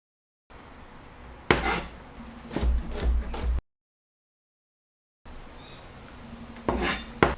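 A knife chopping an onion on a cutting board, a few firm close knocks followed by a quick run of rhythmic chops, then a silent gap before another brief burst of chopping.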